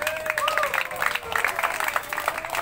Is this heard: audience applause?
yes